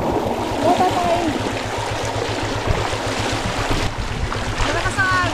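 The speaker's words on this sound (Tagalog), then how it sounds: "Malakas ang agos." A strong river current rushes and surges steadily beneath a droning boat motor, a continuous loud churn with voices talking over it.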